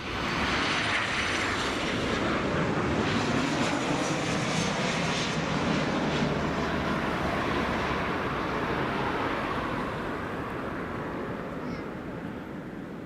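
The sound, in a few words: Ryanair airliner coming in to land at Leeds Bradford Airport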